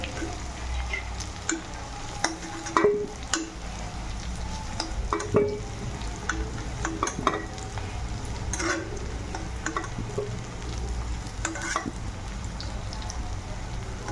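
Potatoes and onions fry in a pan, a quiet steady sizzle dotted with small pops and utensil taps, close by, with a soft voice in the background.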